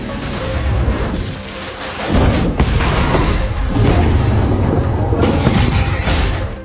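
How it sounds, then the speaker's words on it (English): A loud, deep boom erupts and rolls into a sustained rumbling roar, with a second burst of crackling noise near the end. "At this critical moment, another explosion rang out."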